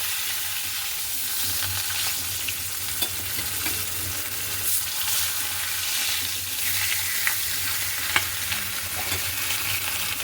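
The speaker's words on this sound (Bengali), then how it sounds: "তেল গরম হয়ে গেছে মাছগুলো দিয়ে দিই" Fish pieces frying in hot oil in a pan, giving a loud, even, crackling sizzle close by that continues unbroken with no voices.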